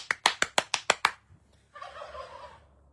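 Turkeys gobble in a quick rapid series of about seven sharp pulses, followed after a brief pause by a softer, longer warbling call.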